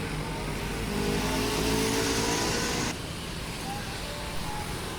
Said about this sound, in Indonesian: Setelah mengisi penumpang, bus langsung melanjutkan perjalanan.